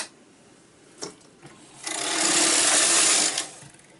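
A knitting machine carriage slides across the needle bed while knitting a sweater back, a single smooth rushing sweep of about a second and a half, preceded by a few light clicks.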